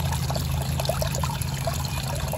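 Pond water trickles and drains back down through a filter pump hose into a garden pond, a steady close-up gurgling flow that carries on alone.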